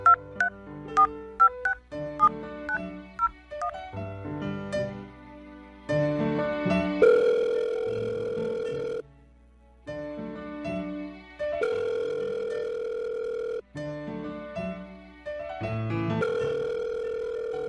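A telephone dials with a run of short tone beeps, then long steady ringing tones repeat with gaps between them, clean and close, used as a radio drama effect.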